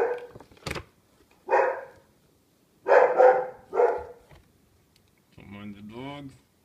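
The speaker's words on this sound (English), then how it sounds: "Don't mind the dog." A dog barks indoors in several separate sharp, fairly close bursts, followed by a longer whining, voiced sound near the end.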